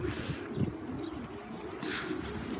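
Racing pigeons coo at a flock loft in Osmaniye, low throaty calls rolling on steadily and fairly close, with a brief higher chirp partway through and no talking.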